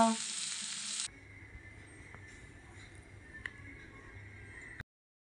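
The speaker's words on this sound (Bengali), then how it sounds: "দেখুন আমাদের শিবাঙ্গী আলু ভাজা করতেছে" Potatoes frying in a pan give a loud sizzling burst at first, then settle into a steady, quieter close-up sizzle with occasional stirring clicks.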